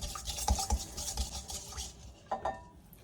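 Quinoa salad ingredients seasoned with black pepper being mixed in a bowl, with soft scraping stirs and a few close utensil clinks against the dish, quiet and without speech.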